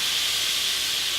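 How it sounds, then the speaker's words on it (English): A steady, loud hiss of shrimp sizzling in a hot pan, continuous and close with no other sounds. "I think that's my favorite part of cooking, the sizzle sound"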